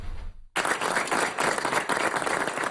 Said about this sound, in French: Sous les applaudissements des soignants et du personnel administratif de l'hôpital du Duc Toval